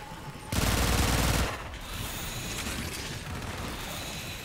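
Rubico Prime sniper rifle fire in Warframe during a Plague Star hemocyte fight, with one dense burst of loud gunfire followed by a steady roar of game noise.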